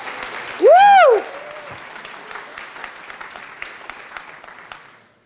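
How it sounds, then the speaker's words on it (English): Volunteers at a gathering clap in applause after a loud whoop, the clapping settling into a steady patter and fading out over a few seconds. "Give yourself a big applause"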